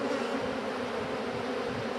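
Honeybees in an opened, densely packed hive buzz in a steady, dense drone, close and continuous with no pauses and no talk.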